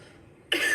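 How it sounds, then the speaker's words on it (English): A single sharp cough bursts out after a stretch of near silence, loud and close. "Cough into my elbow."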